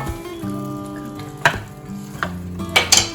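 Vegetables sizzle steadily in a pan with garlic, butter and oil, a continuous close frying hiss broken by a few sharp stirring scrapes and clinks near the end.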